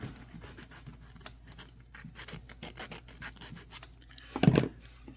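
A small jeweler's file rubs a burr off a creek stone pendant in rapid short rasping strokes, close and moderately quiet, with one louder scrape near the end and no talking.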